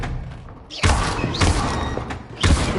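Disarming Expelliarmus spell cast in the Hogwarts Legacy game on PS5, with heavy thuds and bursts of magical impact close and loud amid combat effects.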